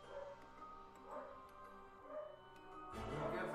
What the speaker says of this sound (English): Dogs are going boogly.